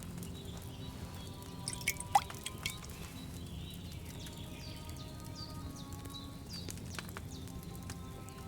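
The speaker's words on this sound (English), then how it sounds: "Get a phial and pour it in." Decoction poured from a vessel into a glass phial in the medieval alchemy game Kingdom Come: Deliverance 2, a few light liquid drips and splashes over a steady low ambient bed with soft music tones, no talk.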